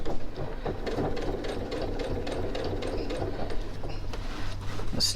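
A domestic sewing machine stitches the side seam of a reversible tote bag with a fast, even run of needle clatter. The motor whirs steadily underneath, close and moderately loud, and no one speaks.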